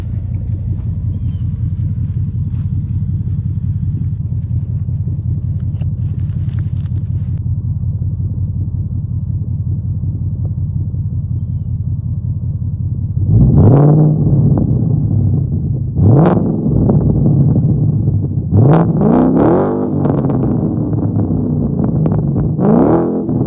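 Ford Mustang GT/CS with flood damage idles with a steady low rumble, then several sharp throttle blips rev the V8 up and let it fall back, loud and close with no talk.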